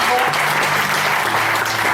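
A church congregation applauds loudly and steadily, a dense wash of clapping that fills the short stretch without pause.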